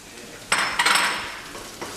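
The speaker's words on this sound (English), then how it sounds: "Next step, our rice goes into our onions and our garlic." Rice tipped into a pan of cooking onions and garlic for risotto, giving a sudden pouring rush and rattle of grains against the pan, followed by a short scraping stir and settling sizzle.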